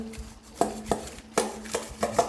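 Vegetables are chopped with a knife on a cutting board, giving a quiet, irregular series of sharp knocks spaced about a third of a second apart, close by, with no talking.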